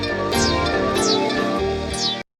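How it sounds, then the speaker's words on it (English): A soul sample chopped in Fruity Slicer into a beat: dense harmonic chunks restart in choppy, rhythmic slices with sweeping vocal-like falls at each cut, loud and upfront, ending abruptly in silence. "So this is what it sounds like chopped up now."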